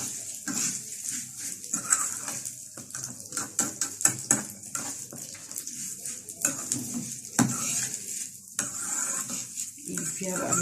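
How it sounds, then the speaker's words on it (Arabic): Thin vermicelli stirred and fried in oil in a pan, with irregular scraping, clinking and stirring strokes over a soft background sizzle, some strokes louder than others. "اقلب فيها كده لما اخلي كل الشعريه تاخد من الزيت"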